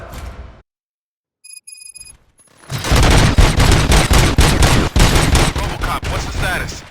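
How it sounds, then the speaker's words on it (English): Gunfire in the video game RoboCop: Rogue City erupts after a short electronic beep, a dense, loud burst of rapid repeated shots and impacts lasting several seconds. "Gunshots? What's going on?"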